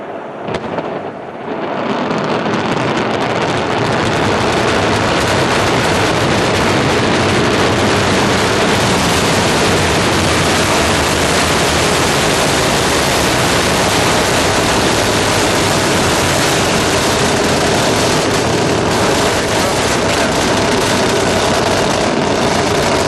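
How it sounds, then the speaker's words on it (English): The big engines of an Ariane 5 rocket roar at liftoff on flight V163 carrying ANIK F2 in 2004. A dense, loud, continuous rumbling roar builds within the first second and stays powerful and unbroken throughout. "mighty roar of the big engines on the big Ariane 5 as she lifted off from the pad"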